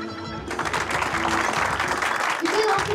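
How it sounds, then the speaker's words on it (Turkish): Audience applause on a Turkish television comedy stage show, a steady, dense clapping that fills the whole moment, close and loud, with a voice speaking over it. "Güzel alkışlığınız için teşekkür ediyorum."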